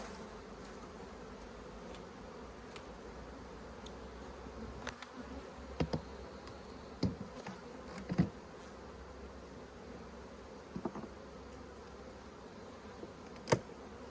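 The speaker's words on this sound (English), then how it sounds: "Go ahead and shake these bees off." Honeybees hum steadily as they are shaken off hive frames during a hive split, a dense continuous buzz broken by a few sharp knocks and thumps of frames against the box, with no talking.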